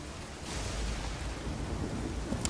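Steady broadband rain hiss from the game Nioh fills the scene at a moderate level, with a soft low rumble of thunder underneath and no talking.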